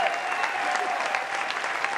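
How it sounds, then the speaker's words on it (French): Studio audience applause for Alain of Koumassi on a TV talk show, a steady dense patter of many hands, fairly close and unbroken throughout. "Alain, applaudissez pour Alain, s'il vous plaît."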